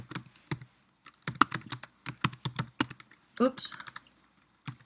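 Typing on a computer keyboard comes through as close, crisp clusters of key clicks in bursts with short pauses, interrupted briefly by a single spoken word.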